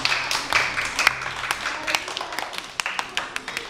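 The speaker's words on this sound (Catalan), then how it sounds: "aplaudiment" Audience applause fills the room, with dense scattered clapping and sharp individual claps that gradually thin out and grow more sparse, with no voices over it.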